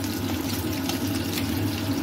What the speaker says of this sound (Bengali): আর দেব হলুদ গুঁড়ো দিয়ে আমি এটা জল দিয়ে ভিজিয়ে রাখবো।